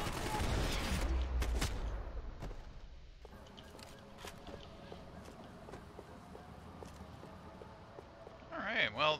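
Gunfire in the video game Max Payne 3, several loud shots clustered at the start, then quieter game ambience with scattered clicks and a voice near the end.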